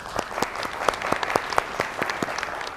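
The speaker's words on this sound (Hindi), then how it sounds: "लेकिन तालियां जय जी इनके लिए" Studio audience on a talk show applauds a guest, a moderate round of clapping with distinct individual claps standing out in an uneven rhythm, fairly close and without talk.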